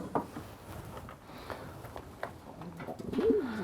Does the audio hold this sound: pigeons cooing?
yes